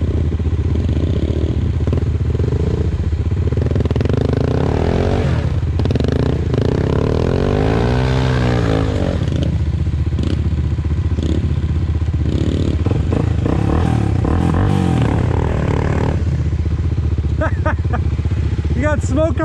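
Off-road vehicle at an ORV park revs hard in second gear with a tire spinning, a loud sustained engine roar rising and falling for the whole stretch, mixed with clattering and scraping and occasional voices.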